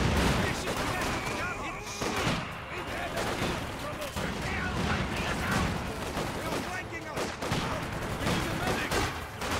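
Units fire in a strategy video game, a dense, continuous crackle of gunshots and bursts with occasional heavier booms, loud and busy throughout, while a voice talks over the combat.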